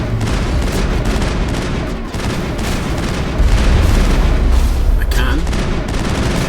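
Continuous gunfire while fighting Geth on Feros in Mass Effect, a dense, loud run of rapid shots with booming impacts that grows heavier partway through, with a person speaking briefly over the shooting.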